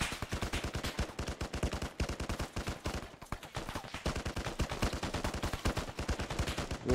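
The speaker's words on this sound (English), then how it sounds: "we're under heavy fire over here at the X" Heavy automatic gunfire in the military shooter game Arma 3, rapid loud bursts running almost continuously with only a brief lull partway through.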